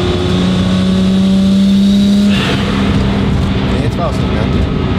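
A Toyota Supra MK4 turbo engine revs under load with a loud, steady droning tone that breaks off and shifts into rougher, rising turbo noise, heard close with voices talking over it.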